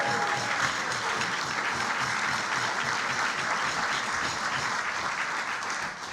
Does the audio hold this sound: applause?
yes